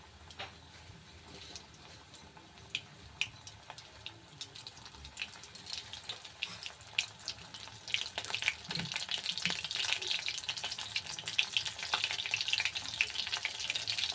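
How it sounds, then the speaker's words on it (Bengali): Prawn pakoras frying in oil over a low gas flame, with a gentle, crackling sizzle that grows busier and louder toward the end, heard up close with occasional light ticks. "দেখো আস্তে করে দিয়ে আমি ভেজে নিচ্ছি"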